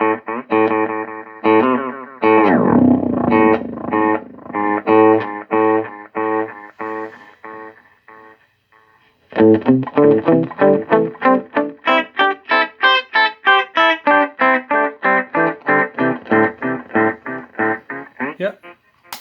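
An electric guitar runs through a Donner or Rowin echo effects pedal, playing chords and a run of rhythmic picked notes. The tone is loud and distorted, and each note trails off into repeating echoes.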